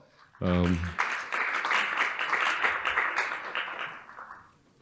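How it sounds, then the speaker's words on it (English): A conference audience applauds panelists at an industry session. A short spoken phrase leads into steady, moderately loud clapping from the room that holds for a few seconds and then fades. "can we give our panelists a round of applause?"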